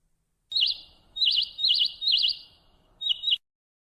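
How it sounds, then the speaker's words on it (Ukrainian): A small bird sings five quick, bright chirping phrases in a row, close and clear against silence. "Звичайно, це співає пташечка."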